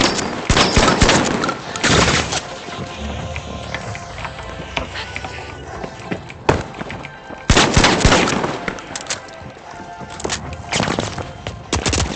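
An RPG rocket fired in the shooter game The Finals, amid loud gunfire and blasts, with heavy bursts of booming and crackling near the start and again about two-thirds through.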